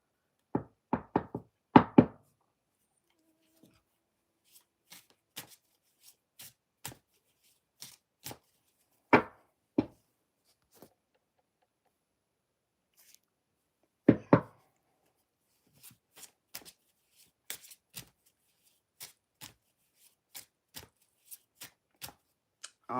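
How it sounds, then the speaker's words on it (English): A brand new tarot deck being shuffled, with a burst of riffling at the start and another near the middle, then scattered soft card taps and clicks. Close and fairly quiet, with no talking. "I'm just shuffling my deck. It's a brand new deck"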